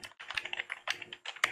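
Rapid typing on a computer keyboard, close and crisp, as a shell script is written on a server. Bursts of quick keystrokes come with short pauses between.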